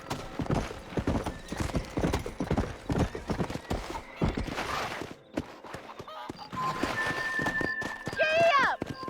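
Horse hooves clip-clop and gallop in the Red Dead Redemption video game, with a rapid rhythmic beat near and loud. A rider's voice shouts commands and a horse whinnies near the end.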